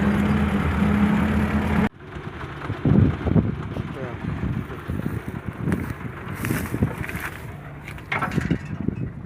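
A forage harvester mows and chops corn for silage in a field, its steady engine drone and cutting noise rumbling throughout, heavily buffeted by wind on the microphone, with people talking over it.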